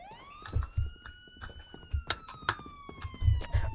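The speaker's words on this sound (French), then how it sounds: "La sirène me casse les couilles, il pouvait pas l'éteindre en descendant de son putain de camion là?" A steady fire truck siren in a game drones on continuously while repeated clunks and thumps punctuate it.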